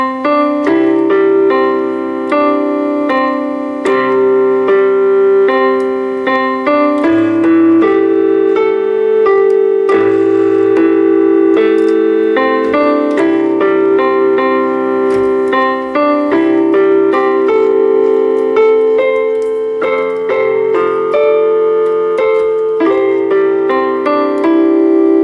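Solo piano plays the second verse of a song from The Hobbit, a steady, sustained chordal passage with a clear melody over held harmonies, continuous and close with no talking.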